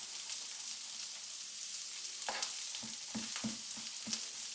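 Shallots, mushrooms and bacon fry in a pan with a steady soft sizzle, broken by several short scraping stirs toward the end.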